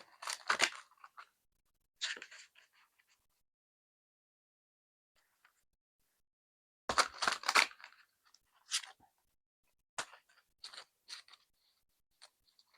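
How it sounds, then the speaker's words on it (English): Tarot cards being shuffled: several quick bursts of crisp riffling and flicking, close and clear, separated by pauses of silence. "One more good shuffle"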